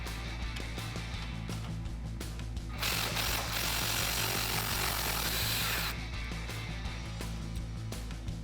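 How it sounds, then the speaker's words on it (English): Hand tools work on the sway bar end link at the axle of a two-door Jeep Wrangler JL, with scraping, ratcheting clicks and metallic rubbing, and a loud, dense power-tool burst in the middle before the quieter clicking returns. "we'll first remove our sway bar end link at the axle."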